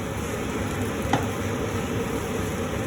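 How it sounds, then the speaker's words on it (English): Egg fried rice being stirred in a pan produces a steady, even scraping and sizzling texture throughout, with a single brief clink partway through and no talking. "Mix the rice very well."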